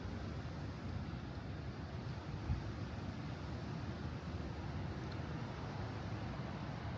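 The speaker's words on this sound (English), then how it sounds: "if the wind would just stop, it would be a very nice day here" Steady wind blows outdoors on a day in Michigan, a continuous low broadband rush with gusty rumble, near and moderately loud throughout with no voices.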